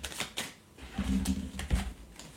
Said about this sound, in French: Je vais tirer 4 cartes pour le caractère.